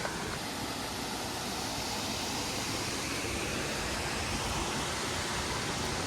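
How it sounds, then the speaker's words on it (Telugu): A small waterfall at a scenic spot in Sakleshpura gives a constant broadband rushing roar, even and unbroken throughout, with no voices. "చిన్న వాటర్ ఫాల్స్ అయినా చూడడానికి చాలా బాగుంది."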